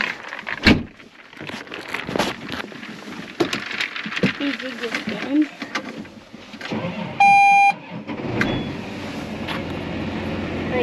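A tractor engine starts on a farm in Canada at planting time. Clunks and talking come first, then a warning beep, and the engine catches and settles into a steady, close running drone.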